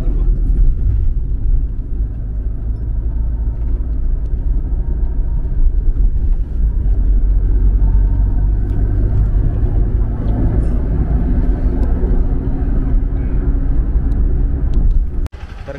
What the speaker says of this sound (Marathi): कंटिन्यू रनिंग चालूच राहणार आहे गाडी